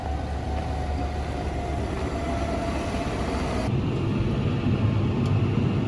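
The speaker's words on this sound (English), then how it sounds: "Just setting this front mower up now" Fendt tractor running with a front mower, a steady low engine drone and broadband rumble continuing throughout, the tone shifting slightly partway through.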